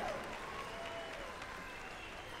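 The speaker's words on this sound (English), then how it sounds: "How about a round of applause for the Miss Indian World?" Crowd applause for the thirty Miss Indian World contestants at the Gathering of Nations pow wow, a steady dense wash of clapping that holds evenly across the whole short moment, with faint voices mixed in.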